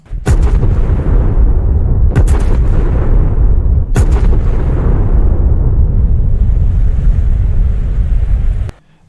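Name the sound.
510mm naval guns firing, World of Warships PC sounds, video game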